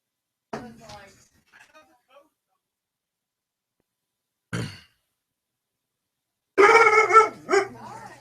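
A dog gives a few short vocal bursts, whines or barks separated by silence, heard close in a quiet room; a final louder, sustained stretch has a howling, wavering quality.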